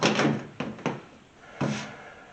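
Plastic clips on a Squarebody C10 pickup's door panel are pressed into place, giving several dull, knocking thumps spaced over about two seconds, close up.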